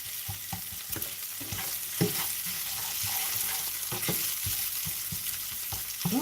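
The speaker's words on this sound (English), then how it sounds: "now you just want to reduce the heat, and you just want to fry this until it's fragrant" Broad bean paste fries on reduced heat for mapo tofu, a soft continuous sizzle broken by repeated scraping stirs of a utensil against the pan.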